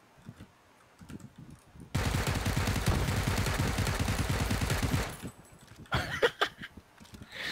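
Sustained automatic gunfire from PUBG, a rapid, loud burst of shots running for about three seconds, with quieter game noises before and after.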